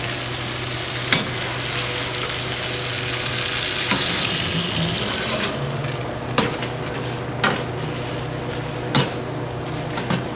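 Adobo pulled beef carne con chile simmers and sizzles in its sauce over a fire, a constant frying hiss broken by a few sharp knocks of a utensil against the pot.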